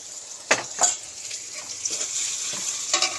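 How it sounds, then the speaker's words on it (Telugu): Green chillies, onion, cumin and ginger-garlic paste frying in oil in a pan, a close bright sizzle with a few stirring scrapes and clinks over about three seconds. "ఆయిల్ పోసుకున్నాను మూకుల్లో అలాగే పచ్చిమిర్చి ఉల్లిపాయ కాస్త జీలకర్ర పోపుకు వేశాను"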